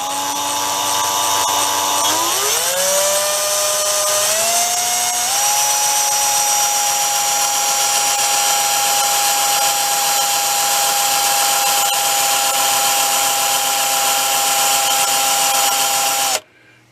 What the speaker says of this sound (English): Not bad for homemade cheapy lathe there, huh?